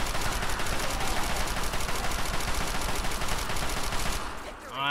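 Rifle gunfire in the video game Fallout 3, a dense, loud, continuous barrage of shots and game noise that fills the whole stretch before briefly thinning at the end.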